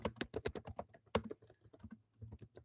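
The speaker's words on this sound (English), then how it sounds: "Over here typing." Typing on a computer keyboard: close, crisp keystrokes come in quick bursts, then pause briefly before a few more clicks. No voices are heard.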